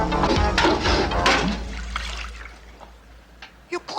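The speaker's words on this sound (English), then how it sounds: "It knocked over his bucket of water." A bucket of water knocked over in a radio horror drama, a loud rushing splash and gush that fades to dribbling trickles and a few soft knocks.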